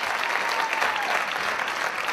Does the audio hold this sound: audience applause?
yes